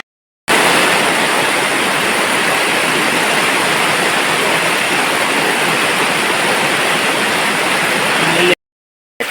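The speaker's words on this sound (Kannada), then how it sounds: "ಹಾಗೆ ಮಳೆ ಸಹ ಬರ್ತಾ ಉಂಟು." Steady, dense hiss of heavy rain pouring down, continuous and fairly loud for several seconds before cutting off abruptly.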